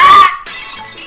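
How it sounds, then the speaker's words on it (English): A blunt projectile shatters against a floor in one loud, sharp crash with bright ringing fragments, followed by a quieter scattering tail of debris. "As a blunt projectile shatters noisily against the floor behind us"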